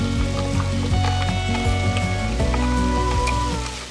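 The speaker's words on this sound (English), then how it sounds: "Now we're gonna add in our onion and our garlic." Finely diced onion and two cloves of garlic sizzling in a hot pan, a steady dense crackle with faint clinks of a utensil, close and continuous throughout.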